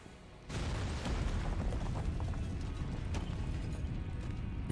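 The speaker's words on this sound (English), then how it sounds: "After a loud bang, the chapel starts to crumble" In the video game Reverse: 1999, a bomb blast hits a chapel as it begins to crumble. A sudden loud burst breaks out of quiet and rolls into a heavy, sustained rumble of collapsing debris with scattered cracks.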